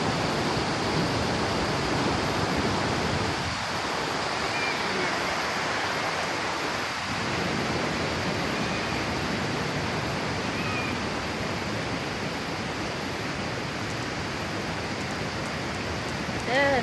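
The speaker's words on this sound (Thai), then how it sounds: "น้ำตกแกงนุ่ย" Kaeng Nui waterfall sends up a steady broadband rush of falling water, loud and unbroken for the whole stretch, with faint voices briefly audible beneath it.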